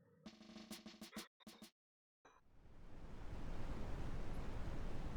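A waterfall in Pokémon Mystery Dungeon: Explorers of Sky rushes in as a steady broadband roar that swells and holds, following a short burst of game music and a brief silence.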